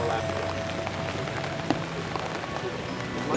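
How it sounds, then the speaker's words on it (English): Heavy rain pours down during a sailing regatta, a steady, dense hiss of drops striking surfaces at close range with occasional sharper patters and a low rumble beneath. "Look at how hard it's raining right now"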